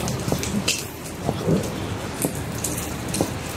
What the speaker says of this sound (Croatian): Kiša sila, što bi rekao.